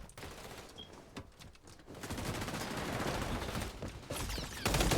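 An ACR assault rifle fires in the shooter game XDefiant, giving a dense rapid-fire automatic burst with sustained loud cracking and a short lull before the fire continues.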